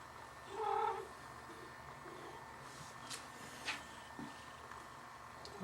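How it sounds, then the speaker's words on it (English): An old house cat purrs softly and steadily close by, with a brief louder meow-like cry early and a few small rustles. "Tiny kitten."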